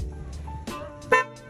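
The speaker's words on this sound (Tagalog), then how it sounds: "super loud horn na ikinabit sa ating motor" Two loud, blaring blasts from an aftermarket truck-like motorcycle horn, each short and harsh, over a low idling engine, close up.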